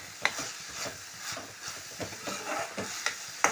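Finely chopped green chilies and masala go into a pan with onions for paneer bhurji, soft frying sizzle with light stirring and a few sharp clinks of a utensil, fairly quiet, no talking.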